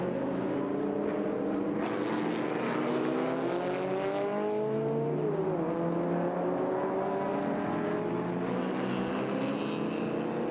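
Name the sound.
racing car engines, 1990s race cars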